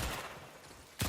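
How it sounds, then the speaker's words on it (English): Gunfire in the video game Warframe: a loud burst of shots opens the moment, briefly fades, then a second sharp blast cuts in at the end. "let's go ahead and take some shots here"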